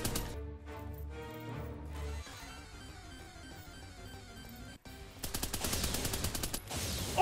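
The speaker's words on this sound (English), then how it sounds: "An assault rifle." Rapid automatic assault rifle fire in a Pokemon-style video game crackles as a dense burst of evenly spaced shots near the end, following a stretch of quieter game music and effects.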